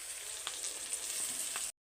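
Ground spices frying in oil in a pan, a soft steady sizzle with a couple of light stirring taps, fairly quiet and close, cutting off abruptly at the end, no voices.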